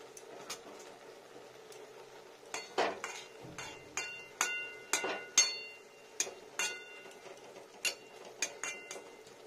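A kadai of cauliflower and paneer vegetable curry is turned and straightened on the stove, giving a string of quiet metallic clinks and taps at irregular intervals, close and fairly faint, with no talking.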